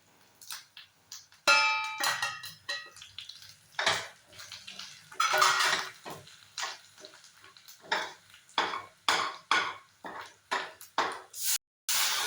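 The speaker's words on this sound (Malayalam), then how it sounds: "ഇനി നമുക്ക് ഇതുകൂടി ഇട്ട് മൂപ്പിച്ചിട്ട് ഈ അമ്പഴങ്ങയും കൂടി ഇട്ട് ഇളക്കിയാൽ മാത്രം മതി." Hog plums (ambazhanga) are stirred into a pickle in a pan, giving a string of scraping, clattering strokes with watery splashes, loud and close with no talking.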